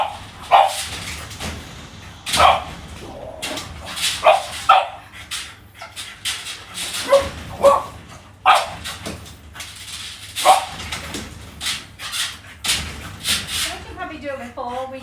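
French bulldogs bark in short sharp bursts and whimper between them, close by and indoors, with people talking over and around the dog sounds throughout.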